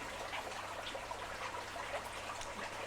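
Water trickles steadily out of a pipe in a small aquaponics system, a soft, continuous flow with no talking.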